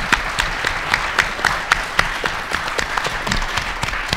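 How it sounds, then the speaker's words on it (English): Sustained audience applause at the Texas Quiz Show, a dense steady wash of many hands clapping with sharper individual claps poking through, loud and continuous without talk. "Let's have a special round of applause for the Bob Bullock Texas State History Museum."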